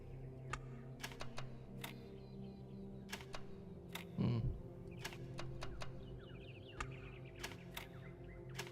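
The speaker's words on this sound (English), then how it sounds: "I'd love it, Molly, if you would stop pressing shit on my keyboard" Scattered keyboard key presses click at irregular intervals during The Talos Principle 2 gameplay, quiet and fairly close, with a brief louder thump midway and faint bird calls in the game ambience.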